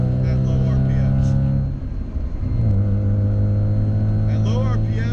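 Mazda RX-7 rotary engine droning loudly and steadily, dipping briefly before rising into a strong sustained rev, with a voice talking over it.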